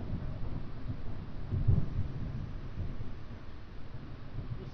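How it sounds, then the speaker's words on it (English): Low rumbling thunder rolls through steady storm noise at 3 AM in Odessa, Texas, swelling briefly midway before fading back into a constant dull roar. "thunder claps"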